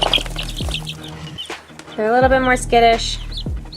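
Young Spangled chicks, day-old hatchlings, give high, wavering peeps in short bursts, close by, while a person talks over them.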